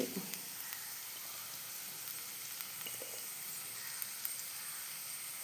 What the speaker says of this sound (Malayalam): ഒന്ന് ഇളക്കി ഇതിൻ്റെ പച്ചമണമൊന്ന് മാറുന്ന വരെ ഒന്ന് ഇളക്കി കൊടുക്കുക